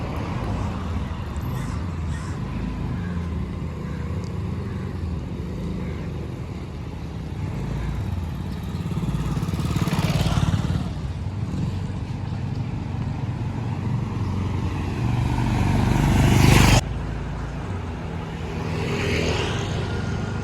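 A scooter ridden slowly by a beginner on her second day of learning, engine murmuring steadily with passing traffic nearby and a person talking over it throughout.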